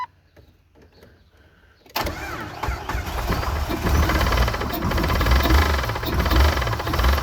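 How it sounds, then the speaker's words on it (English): A worn car engine in a recovery build, showing 69,000 on the clock, fires after a quiet lead-in and revs hard and rough up to the rev limiter, loud and close and climbing over several seconds. "listen to the motor itself. That was up to the rev limiter"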